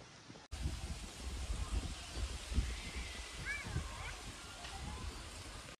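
Rushing water from Motijharna waterfall in Jharkhand, India, roars in a continuous broadband wash, with a voice speaking over it.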